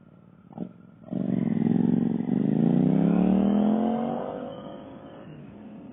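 A motorcycle at city traffic lights in Sydney idles quietly, then its engine revs up loud and close, its pitch climbing as it pulls away before fading slightly.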